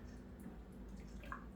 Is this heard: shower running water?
yes